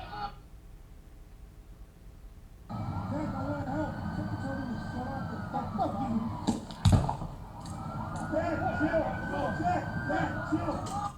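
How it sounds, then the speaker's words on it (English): A police car siren wails at a tense police scene, rising and falling twice over a steady engine rumble with a sharp bang in between, while people shout over it. "Did someone tell them to shut off their fucking siren?"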